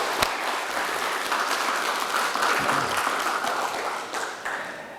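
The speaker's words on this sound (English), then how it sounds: "Can we have a round of applause for our" A live plenary-session audience applauds its panel, dense sustained clapping filling the room at steady volume for the whole stretch, with a few sharper individual claps standing out near the start.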